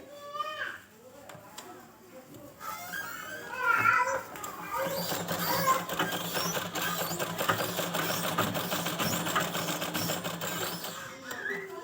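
A sewing machine stitches the neckline of a fancy baby gown for a two-year-old girl, running in a fast, continuous mechanical whir after a brief quieter start, with a voice-like sound mixed in.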